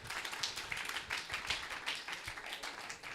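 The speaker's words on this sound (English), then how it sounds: "Let's give a clap for Sister." Scattered clapping from a conference audience for a speaker, light uneven claps rather than a full roar, fairly quiet throughout.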